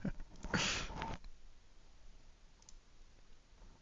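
A computer mouse clicks around in a web browser, with a brief cluster of sharp clicks near the start, then faint scattered clicks over a quiet background.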